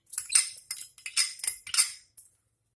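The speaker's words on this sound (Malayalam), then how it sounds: "ഇനി ഇതിലേക്ക് എടുത്തു വെച്ചിരിക്കുന്ന അരി ചേർത്ത് കൊടുക്കാം." Dry rice poured into a pan for making idli podi, a Kerala spice powder, heard as a close series of light, crisp rattling patters with brief pauses between them.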